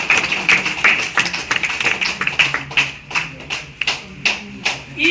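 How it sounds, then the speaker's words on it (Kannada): A crowd at a lucky draw event applauds a winner, a steady patter of hand claps with sharper individual claps standing out, moderately close. "ಜೋರಾದ ಚಪ್ಪಾಳೆ ಮುಖಾಂತರ ಇವರಿಗೆ ಅಭಿನಂದನೆ ಸಲ್ಲಿಸೋಣ"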